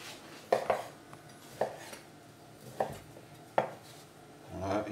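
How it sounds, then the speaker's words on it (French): A knife cutting pork belly, rind already removed, into small pieces on a board: a handful of sharp, separate chops spaced about a second apart, close and fairly quiet, with no talking. "on va la couper en petits morceaux"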